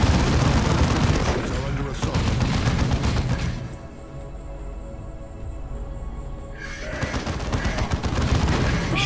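Dense, continuous gunfire and booming blasts from the video game Warhammer 40k: Dawn of War II, loud and sustained, easing into a quieter lull midway before the barrage swells again.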